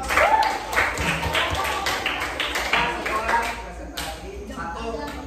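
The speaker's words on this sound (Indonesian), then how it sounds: "Kasih tepuk tangan dulu dong" A group of primary school pupils claps hands in a scattered, uneven rhythm while voices talk and chatter over it in a classroom.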